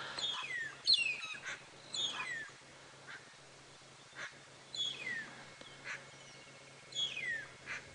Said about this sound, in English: So the magpie shrikes have that sweet choo-choo call, and the very beautiful lilac-breasted rollers have that horrible rah,